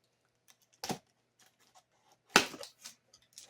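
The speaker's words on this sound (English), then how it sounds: "Cut along that side, cut along this side." A blade slices through cardboard while a shipping box for indoor garden gear is opened, giving two sharp, close scraping cuts separated by quiet, plus a few faint ticks and scratches.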